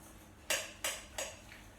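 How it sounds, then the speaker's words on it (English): A spoon stirs porridge oats and mashed bananas in a bowl, giving three faint, evenly spaced clinks against the dish in a quiet room. "I'm going to add my mashed up 2 bananas, and I'm going to give that a really good stir."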